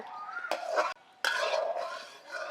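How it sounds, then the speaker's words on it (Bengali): Homemade soy sauce with vinegar is stirred in a pot on the stove, making close scraping and clinking strokes of a utensil against metal, with a brief pause before the stirring resumes. "এখন ভালো করে আর একটু নাড়াচাড়া করেই নামিয়ে নেব"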